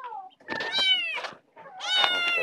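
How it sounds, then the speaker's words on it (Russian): Kittens meow repeatedly, close and loud, with two long, wavering cries separated by a brief pause and some shorter mews at the start. "Вот котята."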